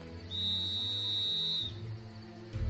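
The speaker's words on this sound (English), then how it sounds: "A whistle is louder than your voice" A single steady, high-pitched whistle blast holds for over a second, loud and clear, then cuts off.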